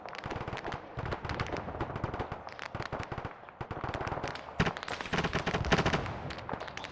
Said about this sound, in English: that MG42 and so much noise at them.